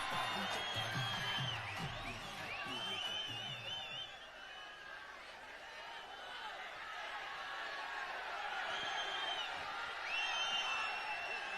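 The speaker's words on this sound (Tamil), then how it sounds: "மீண்டும் ஒரு முறை பலத்த கைத்தட்டல் நம்மளுடைய favourite one and only Dhanush அவர்களுக்காக ப்ளீஸ்" A live audience at an event in Trichy cheering, whooping and applauding for Dhanush, a broad crowd roar with excited shouts that swells, dips briefly and rises again toward the end.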